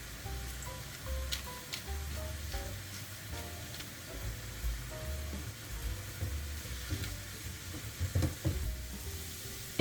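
Mushrooms for a crêpe filling frying uncovered in a pan as their liquid cooks off, giving a steady, moderate sizzle with a few light clinks of a utensil stirring. No one speaks.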